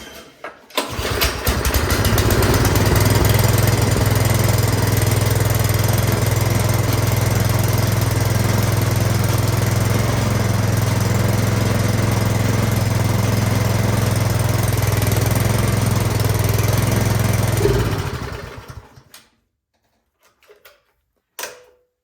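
A snowblower's small engine with a cross-threaded spark plug starts and then runs at a loud, steady drone for about sixteen seconds before it dies away into near silence, followed by a couple of faint clicks.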